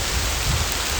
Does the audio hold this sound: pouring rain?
yes